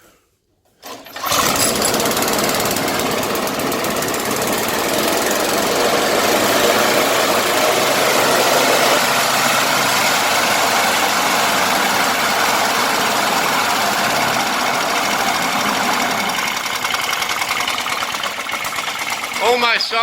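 The small petrol engine of a 50-year-old reel mower starts and runs steadily at a rough, buzzing, not-yet-warm idle, loud and close, with a faint voice briefly underneath.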